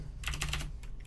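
A brief, close flurry of computer keyboard keystrokes, loud and rapid, with no one speaking.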